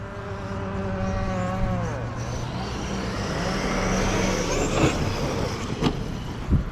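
A Traxxas remote-control car drives with a whining electric motor that rises and falls in pitch, then a rougher rush of tyres and bumps with a few sharp knocks, close and fairly loud.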